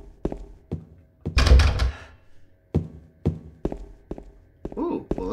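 An unlocked door opens in Silent Hill 2 with a heavy rattling thud and creak in the middle of a steady run of close, hollow footsteps on a hard floor. A voice is heard briefly near the end.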